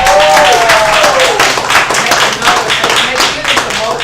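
An audience claps and applauds the young ladies at a live show, dense steady clapping close and loud throughout, with a voice speaking over it early on.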